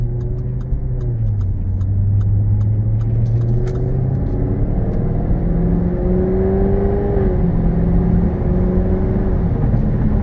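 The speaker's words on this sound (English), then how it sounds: "we're going on a quick test drive here" A 2015 Jaguar F-Type V8 S on a test drive, heard from inside as a loud, steady engine drone and road rumble, its pitch sliding down and up through gear changes, with light ticking early on and no voices.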